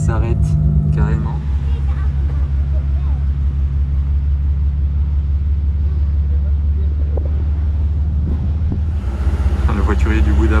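A Ferrari pulls to a stop on a street in Monaco, its deep engine rumble idling close by, with people talking over it.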